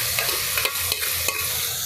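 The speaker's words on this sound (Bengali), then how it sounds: "এটা কিন্তু ভালো করে কষিয়ে নেব।" Ground spice paste fries with boiled tomato in a pan, a dense, loud, continuous sizzle with light stirring scrapes at close range and no one talking.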